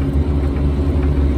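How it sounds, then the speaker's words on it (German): The small engine of a Piaggio Ape 50 three-wheeler runs smoothly at a steady idle, a continuous low, even rumble with no talking. "Bin schon mal froh, dass der Motor jetzt rund läuft."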